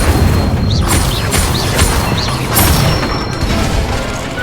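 Fire spell cast in the Hogwarts Legacy video game, a loud, continuous rushing burst of game effects with repeated booming swells and a few short whooshing tones on top.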